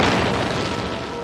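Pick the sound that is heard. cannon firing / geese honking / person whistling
cannon firing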